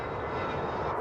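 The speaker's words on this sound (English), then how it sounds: "Plane hovering in the sky." An airplane engine drones steadily in a cartoon, a loud, continuous broadband roar heard alone for a brief moment.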